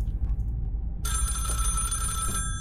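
Telephone ringing in the horror video game Ravenous, a steady electronic ring that starts about a second in and holds at a loud, close level over a low background rumble before cutting off near the end.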